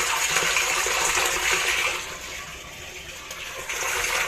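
Water gushes strongly from a tap fed by a water tank after a filter has been installed. The flow is loud and steady, then eases to a lower level partway through and swells again near the end.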